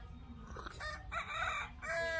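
A rooster crows twice in quick succession, nearby and fairly clear, with a short break between the calls over a low background rumble.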